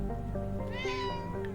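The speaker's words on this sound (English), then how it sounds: "Meow." A single cat meow in the video game Mass Effect 3, rising then falling, fairly soft and close, over a low steady background hum.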